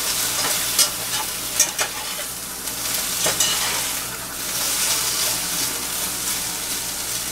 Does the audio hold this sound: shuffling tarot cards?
no